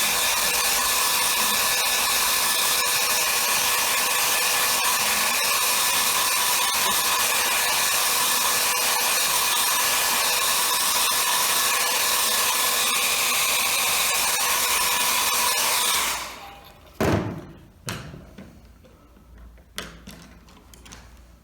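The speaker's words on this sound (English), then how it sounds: "But let's use a hairdryer a bit," A hair dryer blows with a steady, loud whirring roar for about sixteen seconds while drying a watercolour painting, then switches off, leaving a few faint clicks and handling noises.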